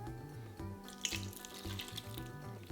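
Water runs from a tap into a mixing bowl of ground pork, a steady close splashing flow across the whole stretch, with no talk over it.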